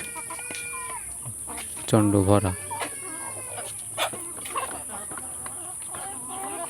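Desi chickens peck at feed from a bucket, clucking in short bursts with one loud, close run of calls near the middle, while someone talks over them.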